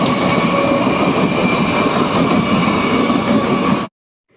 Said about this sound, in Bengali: এবারে দেখো রেল লাইনের ক্রসিংটা পড়েছে কারণ রেল যাচ্ছে